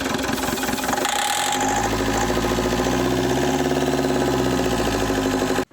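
An Opel Vectra C with the Z19DTH diesel engine idles steadily and smoothly just after starting, a loud close-up continuous rumble with an even rhythmic knock, cutting off abruptly at the end.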